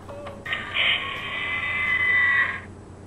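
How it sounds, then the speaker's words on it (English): A short electronic sound effect from a 1/15-scale Diamond Select Back to the Future DeLorean toy car's door opening: a brief click, then a bright warbling synthesized tone lasting about two seconds before cutting off. "I believe that sound was the opening of the doors."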